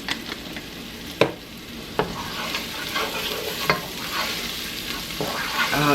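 Minced onion sizzles in a frying pan with a steady crackling hiss, punctuated by a few sharp knocks and scrapes from stirring.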